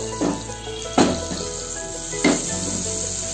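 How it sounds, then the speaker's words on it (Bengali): Chicken pieces go into melted butter in a large wok, giving a steady close sizzle with a few louder bursts of spitting as the meat hits the hot fat. "বাটারটা গলতে শুরু করেছি, দেখতেই পাচ্ছ। মাংসগুলো নিয়ে নিলাম।"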